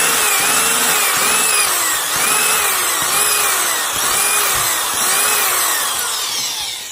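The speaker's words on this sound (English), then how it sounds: "so you can see I've milled it down to where you could just see the tube sitting there" Milling machine cutting down material to expose an embedded tube, a steady close grinding-whir with repeated rhythmic sweeps of the cutter about every 0.7 seconds, continuous and loud with no talk.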